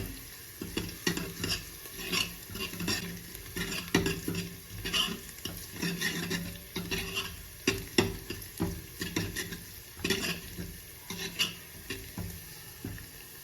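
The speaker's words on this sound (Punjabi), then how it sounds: "ਗੈਸ ਸਿਮ ਕਰਕੇ 1-2 ਮਿੰਟ ਦੇ ਲਈ ਆਪਾਂ ਨੂੰ ਭੁੰਨਾਂਗੇ ਨੂੰ ਹਿਲਾਉਂਦੇ ਰਹਿਣਾ" Garlic and ginger roast in a pan over low gas, with a soft sizzle beneath repeated rhythmic stirring scrapes and clinks of a spoon against the pan.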